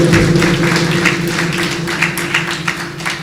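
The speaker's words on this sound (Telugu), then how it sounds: "చప్పట్లు కొడతాం గట్టిగా." A church congregation clapping loudly together in a rapid, regular rhythm of claps over a low steady hum, continuing throughout.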